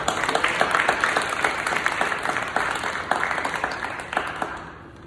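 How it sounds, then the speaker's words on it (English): A school leadership ceremony audience claps for an absent honoree, a brisk spread of many hands that stays even for several seconds before fading away near the end. "can you clap it up?"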